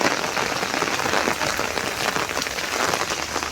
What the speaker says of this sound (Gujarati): અમારા ગામમાં બહુ વરસાદ પડેલો છે